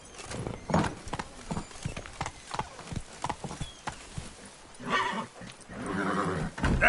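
Roach, a horse in The Witcher 3, gallops with rapid rhythmic hoofbeats, then whinnies loudly near the end, with bursts of game noise around it.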